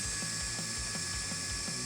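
A Fanttik Nano power drill bores through thick Schedule 80 PVC, giving a steady, rapid ratcheting whir with a rhythmic pulsing as the bit chews into the plastic, close and continuous.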